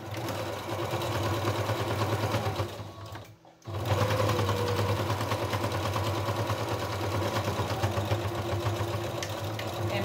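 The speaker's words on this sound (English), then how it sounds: "we're just going to sew around this curve" A sewing machine stitches a fabric face mask, running steadily and loudly with a rhythmic mechanical whir, pausing briefly midway before continuing around a curved seam.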